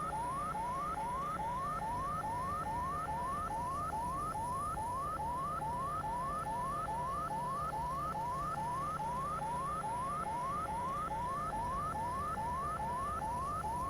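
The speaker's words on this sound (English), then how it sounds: "ignore all the alarm bells going off" Helicopter cockpit alarm in the X-Plane flight simulator aboard an AB412, a rapid repeating chirp of rising tones that cycles steadily and unbroken over a constant low engine and rotor hum.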